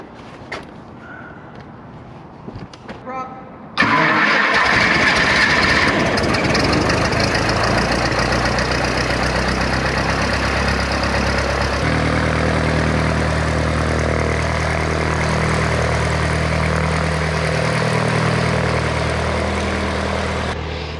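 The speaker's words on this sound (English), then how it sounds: "they're just about to take off" Grumman airplane engine starting before takeoff: a few quiet clicks and a brief whine, then the engine catches abruptly and settles into a loud, steady propeller drone close by.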